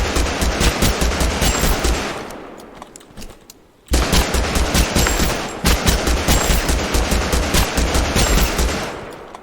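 An assault rifle in Totally Accurate Battlegrounds fires loud, close bursts of rapid, evenly spaced shots, stops briefly with a short lull, then resumes in a second long burst with no talking.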